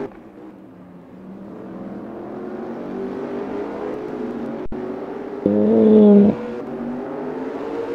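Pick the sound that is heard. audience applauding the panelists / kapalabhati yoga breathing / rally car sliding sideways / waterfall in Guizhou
rally car sliding sideways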